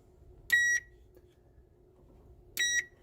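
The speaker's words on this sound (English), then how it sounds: "now it's beeping like it has a ground fault" Two short, high-pitched electronic beeps about two seconds apart from an electrical appliance signalling a ground fault, crisp and close, over a faint low hum.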